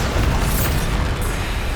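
A Bombarda spell explosion goes off in Hogwarts Legacy: a dense, sustained roaring blast with rumbling low end that fills the whole moment, loud and close, with no voices.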